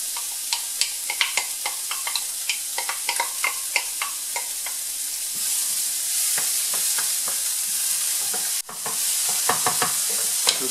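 Finely chopped onion sweating in a hot pan with salt for a homemade chicken curry stew, first a series of scattered clinks and light stirring taps, then a steady close hiss of sizzling that runs to the end with a brief dip.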